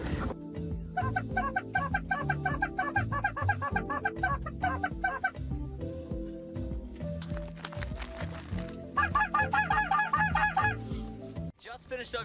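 Snow geese honking during a spring hunt in central South Dakota, a dense chorus of overlapping calls in loud bursts, fading briefly and then swelling again, with a faint voice underneath.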